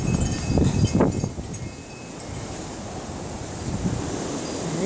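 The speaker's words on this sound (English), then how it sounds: "You can hear how hard the wind is blowing." Strong, cold wind blows outdoors near wind chimes, roaring and gusting as a broad steady rush with a few sharper buffets at the start, moderately loud with no talk.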